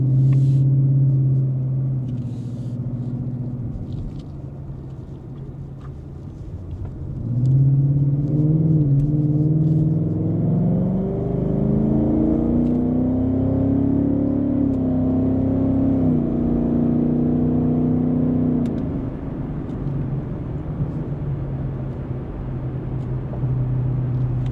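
A 2024 Ford Mustang GT V8 rumbles steadily at low speed, then its engine note climbs in a long, loud acceleration pull before easing back to a deep idle-like drone, close and alone with no talk.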